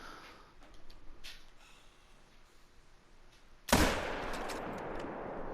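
.270 rifle fired at fallow deer outdoors, a single sharp, loud crack after quiet ambience, followed by a rolling decay of echo.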